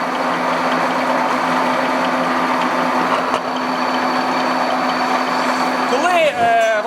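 Boring machine cutting a connecting rod at 290 rpm, giving a steady mid-pitched mechanical hum with a constant tonal whine for the whole stretch, and a short rising squeal near the end.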